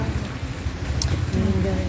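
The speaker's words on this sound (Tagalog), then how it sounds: "Sobrang lakas po ng ulan sa labas." Heavy rain pours outside, a loud steady wash of drumming across surfaces that fills the whole moment, with voices faintly underneath.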